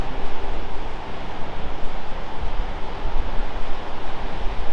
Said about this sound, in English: Just love watching stormy waves.